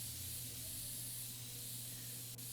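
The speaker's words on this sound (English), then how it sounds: "Install thermal paste or compressed air. Spray it as much as we can." Compressed air sprays steadily on dusty PC parts in a computer-building simulation game, a continuous close hiss with a low hum beneath it.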